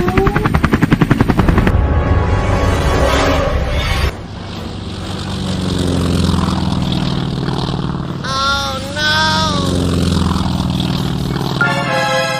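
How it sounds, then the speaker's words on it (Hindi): A helicopter closes in with loud, rapid rotor chopping mixed with engine whine. Bursts of other sound effects break in partway through. "ये जैसन तो हेलीकॉप्टर पर बैठकर हमें मारने के लिए आ रहा है।"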